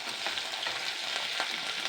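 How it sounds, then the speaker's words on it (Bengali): Cumin and spices sizzle in hot oil, a steady bright crackle with soft stirring scrapes, close and continuous with no voices. "এগুলোকে এবার আমি হালকা করে 2-3 মিনিট হালকা করে ভেজে নেব।"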